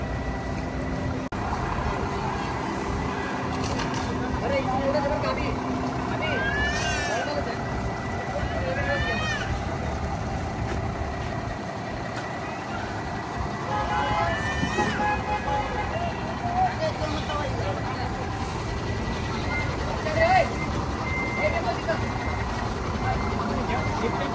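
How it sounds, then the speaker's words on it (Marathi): A new ten-tyre Bharat Benz truck runs with a continuous low engine rumble and intermittent beeping, while people talk and a crowd murmurs nearby. "गाडी चालू झाली आहे आता"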